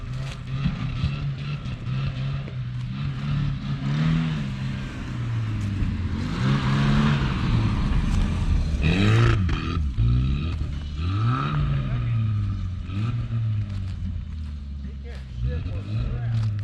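Manual-transmission car engine revving and dropping repeatedly as the driver struggles with the gears, uneven rising and falling drones close by, with people talking over it.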